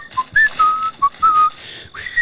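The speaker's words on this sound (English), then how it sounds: "She can whistle. She's a good whistler." A woman whistles a short, clear melody in the 1978 film Halloween, with bright, sliding notes of varying length heard up close and alone.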